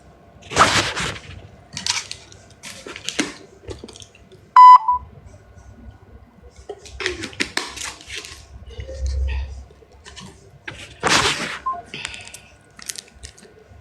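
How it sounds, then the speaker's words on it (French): A phone dialing out on a call, with a short electronic tone burst near the middle among scattered clicks, clatter and handling noises in a room. "On appelle Maman Toulou"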